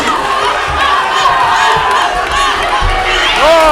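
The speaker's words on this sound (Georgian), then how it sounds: "აპლოდისმენტები." A crowd roars, whoops and cheers at the final round of a championship fight, loud and continuous, with shouting voices rising and falling over the noise the whole time.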